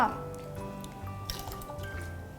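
Lemongrass and chili are spooned into simmering broth, giving close, soft liquid drips and splashes with gentle bubbling, while someone talks over it.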